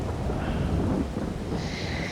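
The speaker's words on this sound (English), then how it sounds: "Yeah, we've had this rain come in." Steady rain pours down on a Lake District farm at Castlerigg, a dense, continuous hiss close by with no voices over it.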